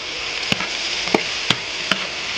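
Tomatoes, scallion, ginger and garlic being stir-fried in lard, a steady sizzle broken by four sharp spatula knocks against the wok at even intervals.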